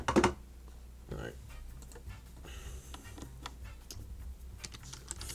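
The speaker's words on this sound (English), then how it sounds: "Hope the little keyboard taps aren't too loud" Quiet clicking of keyboard keys in scattered bursts, with a louder clatter at the start and faint talk in the background.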